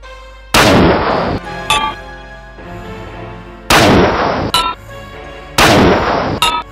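Three loud, sharp gunshot blasts ring out aboard a spaceship in a sci-fi short film, each followed by a metallic ringing decay and short clanks, spaced apart by quieter stretches.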